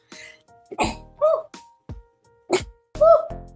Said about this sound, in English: now I'm sneezing